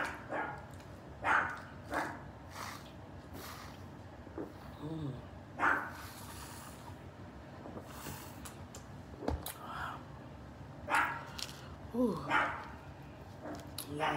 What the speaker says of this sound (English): Y'all hear the dog barking